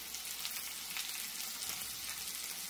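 Kantola (spiny gourd) frying in a pan on high heat, a steady, dense hissing sizzle that carries evenly from start to end without talk.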